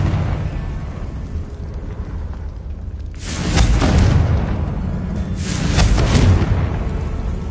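Two heavy booming blasts from a Confringo fire spell in Hogwarts Legacy go off a couple of seconds apart, each loud and rumbling with a crackling tail, over a low ambient background.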